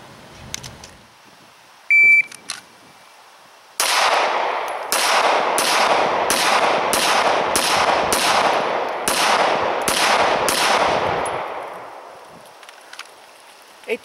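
Ten pistol shots ring out in a 10-shot, 10-second drill, evenly spaced and sharp, each trailing a short echo, after a brief electronic timer beep.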